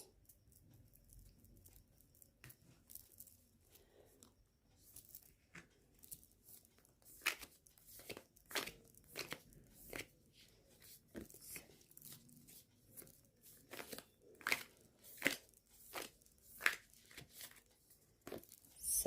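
Someone shuffles a deck of tarot cards by hand, making a long run of soft, irregular riffling snaps and papery flicks. The sound is close but quiet, growing busier toward the end, with no talking.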